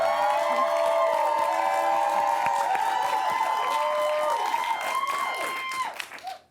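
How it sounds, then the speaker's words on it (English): Studio audience in Johannesburg applauding and cheering as a South African journalist is welcomed onto a talk show, a loud sustained wash of clapping and whoops over a music bed that fades out at the end. "people don't get a bigger cheer than when they come on the Dan Corder Show"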